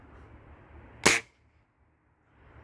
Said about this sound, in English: We shoot with the pellet gun now.